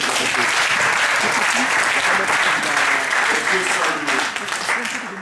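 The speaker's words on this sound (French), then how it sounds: "Acclamons pour la gloire de Dieu." Church congregation breaking into loud, sustained applause during a French-language service, a dense wash of clapping close by that keeps its strength for about five seconds before easing slightly at the end.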